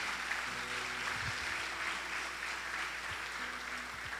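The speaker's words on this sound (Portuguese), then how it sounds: "Dê um aplauso ao Messias com alegria" A church congregation at a worship conference applauding joyfully, a faint steady wash of distant clapping with low rumbling room noise underneath.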